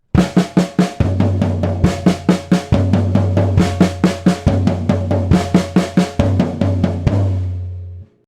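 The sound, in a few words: 16th notes alternating between snare drum and floor tom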